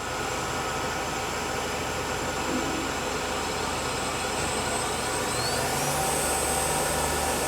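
A Swiss-made Voumard universal internal grinding machine runs its ID spindle at low speed, giving a continuous, even mechanical whir and hum close by, steady throughout with no talk.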